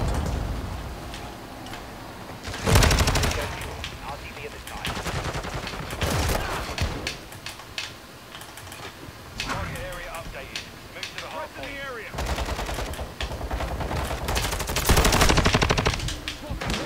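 Bursts of automatic gunfire from a Call of Duty hardpoint match, with loud rapid rattles around 3, 6, 12 and 15 seconds amid game noise, and a voice talking in between.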